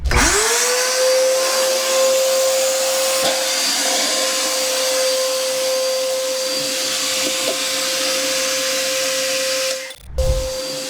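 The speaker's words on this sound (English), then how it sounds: "We use the Milwaukee Fuel 1 5/8 SDS. I've got a 5-inch Bosch coring bit on there." A Milwaukee Fuel 1 5/8 SDS drill fitted with a 5-inch Bosch coring bit cores a hole during radon mitigation in a 140-year-old home, giving a loud, steady motor whine with grinding for about ten seconds before it abruptly stops.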